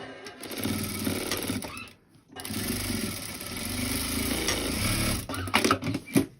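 A sewing machine stitches a seam on a handmade cloth doll in close, loud bursts of rapid needle clatter, pausing briefly once midway, then ending in a few short jerky runs.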